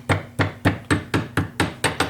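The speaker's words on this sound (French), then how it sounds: "ce sont des coups de marteau qui touchent le métal mais ne le déforment pas" Nine crisp hammer blows land on rolled round wire resting on a steel anvil block, evenly paced and ringing, each strike close and distinct with nothing else heard between them.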